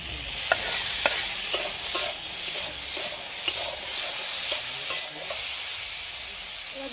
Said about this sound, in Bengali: এবার ভেজে রাখা চিংড়ি মাছগুলো দিয়ে দিচ্ছি।